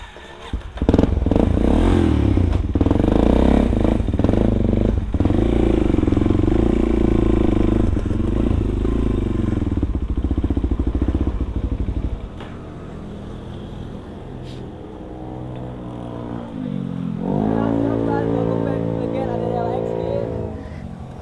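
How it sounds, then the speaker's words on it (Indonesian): Supermoto motorcycle exhaust on a night ride near Lembang, a loud, steady engine drone with rising and falling revs throughout, dipping briefly before picking up again, with a person talking over it. "paling ketutupan eta suara knalpot"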